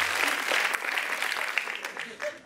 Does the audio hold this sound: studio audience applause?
yes